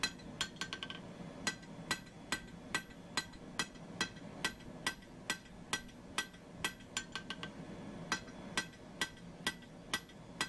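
A 2.5 pound hammer strikes hot steel while forging a punch, in a steady rhythm, about two ringing blows per second, clear and close with no talking.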